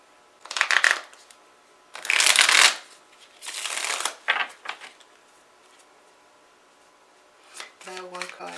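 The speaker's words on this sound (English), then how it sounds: "So I'm shuffling these cards to get clarification." Tarot cards are shuffled by hand in a few distinct bursts of crisp riffling and flapping, close to the microphone, with quiet pauses between and a brief voice near the end.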